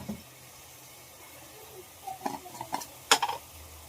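Onions, tomatoes and curry leaves frying in oil, a low faint sizzle with scattered clinks and scrapes of a utensil against the pan growing busier toward the end, close by, no talking.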